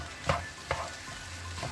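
Fried rice, nasi goreng kampung, sizzles in a pan as a spatula stirs it, with two distinct scraping strokes over a low steady frying hiss; close and alone.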